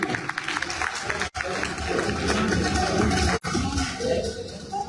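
Applause from a crowd at an education conference in Pakistan, fairly dense and continuous with a couple of abrupt cut-outs, and some murmuring voices mixed in underneath.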